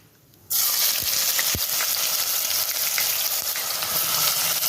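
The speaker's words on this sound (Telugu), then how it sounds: "నూనె వేడైంది ఇక అందులో వేసే మసాలాలు ఎత్తాను" Whole spices and onions hit hot oil for bagara rice with mutton curry: after a brief quiet moment a loud, steady frying sizzle bursts in up close, with a few stirring knocks.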